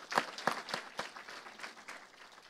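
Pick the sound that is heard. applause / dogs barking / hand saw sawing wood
applause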